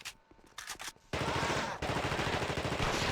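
Rapid gunfire rings out while picking off enemies from range in a horror game, a few sharp shots first and then a dense, loud, continuous burst of fire close by.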